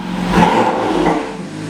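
A loud, deep exhaust roar from a BMW M4 with active exhaust in sport mode, revving steadily, rumbling close by with no talking.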